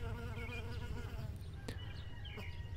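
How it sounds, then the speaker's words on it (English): Honeybees at a hive entrance buzz in a close, continuous drone, with individual bees flying past. "here are the bees taking possession of the hive"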